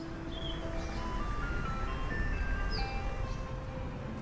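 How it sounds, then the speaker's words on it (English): An ice cream truck plays its melodic chime jingle in the horror video game Downfall, a steady tinkling tune over a constant ambient hum, clear and continuous with no talking. "Don't trust the ice cream truck."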